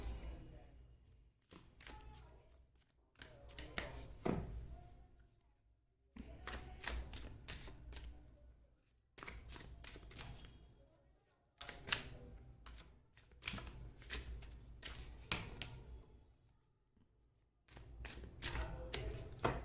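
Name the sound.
tarot cards being shuffled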